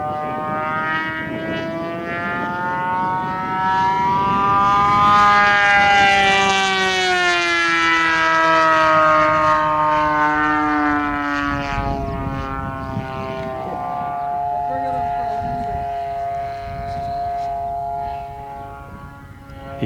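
A noisy propeller airplane drones loudly and steadily, its harmonic engine tone rising and then falling in pitch as it passes close by; no one speaks.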